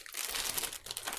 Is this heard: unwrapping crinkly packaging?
yes